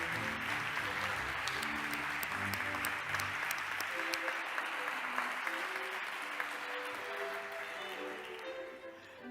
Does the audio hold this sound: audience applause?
yes